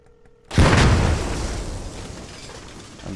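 A loud IED detonation in a video game bursts in suddenly after a quiet moment, a single heavy boom that decays into a long rumbling tail.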